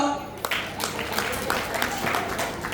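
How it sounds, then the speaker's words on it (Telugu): Children in a class clap together in a steady run of applause over a low murmur of voices, moderately loud and close. "చప్పట్లో."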